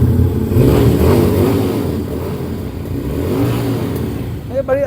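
A V-twin motorcycle engine revs up close by, its deep throbbing surge rising and falling, while someone talks over it near the end.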